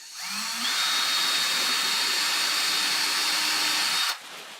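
A power drill whirs with a steady high-pitched whine for about four seconds, then cuts off abruptly.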